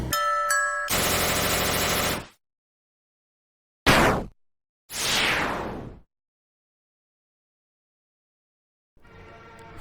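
Flowey's attack in the video game Undertale comes through as a burst of dense, rapid game sound effects, then sharp whooshing sweeps separated by silences, and a faint jingling tail at the end.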